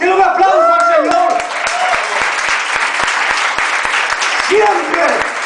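Loud crowd applause at a church sermon, with rapid clapping, mixed with shouting and cheering voices rising at the start and again near the end.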